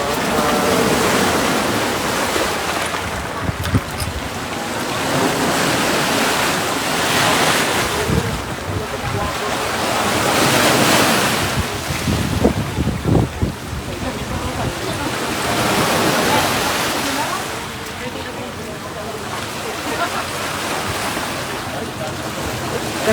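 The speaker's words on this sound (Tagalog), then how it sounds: "Kasabay ng paghampas ng uh, malakas na alon mula sa Manila Bay" Heavy surf from Manila Bay crashes and roars in repeated surges, with strong wind buffeting the microphone throughout.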